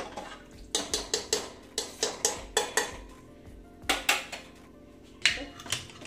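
A pressure cooker being shut while cooking lobia (black-eyed peas) with gravy: a run of sharp metallic clanks and clatters in irregular bursts, close and fairly loud.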